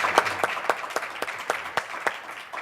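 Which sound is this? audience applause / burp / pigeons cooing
audience applause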